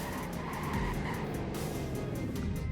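A car in the Roblox game Greenville brakes hard from high speed, a steady close engine and road roar with tire skid noise running through the whole stretch.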